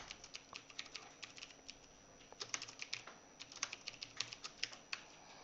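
An address being typed on a computer keyboard, a steady patter of rapid key clicks throughout, faint and fairly close, with no talking.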